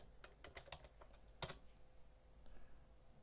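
A command is typed on a computer keyboard while configuring a network switch, a short burst of soft, close key taps with one louder keystroke, set over a faint steady hum and without speech.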